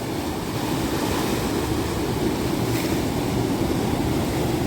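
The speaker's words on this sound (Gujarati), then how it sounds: "કેવડા કેવડા મોજા આવે છે." Big sea waves break on the beach at Vizag in a steady, loud roar of surf with continuous wash and hiss, and no voices are heard.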